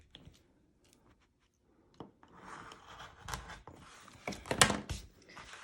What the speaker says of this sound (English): Now I am going to use my roto cutter again and cut about 1/8 of an inch away from that seam line.